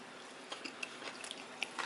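Crisp crunching as someone chews pickled Korean side dishes, including wild peach jangajji, at a budget set-meal restaurant on Ganghwa Island. The crunches are faint, close and spaced irregularly over a quiet background.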